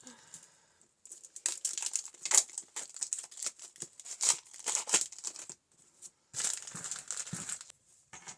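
Plastic-wrapped packs of sewing-themed tags being torn open and handled, giving sustained crinkling and tearing of plastic wrap in close, busy bursts with a short lull midway, no talking.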